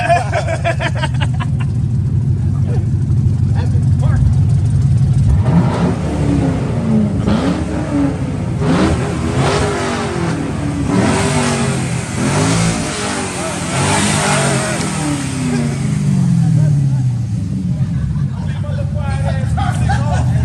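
A loud car engine revs and roars nearby, rising and falling, with people chattering over it.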